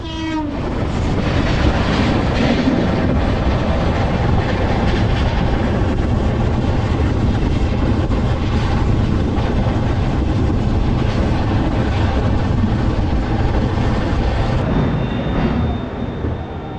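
The Howrah-Bengaluru Duronto Express, with a top speed of 130 km/h, runs through Kharagpur station without stopping. It is a loud, continuous rumble of wheels with rhythmic clatter and a long horn blast over the steady roar.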